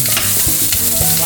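Carrots and bamboo shoots stir-fried in a wok for hot and sour soup, a loud dense sizzle with quick rhythmic tossing and scraping, close up and without voices.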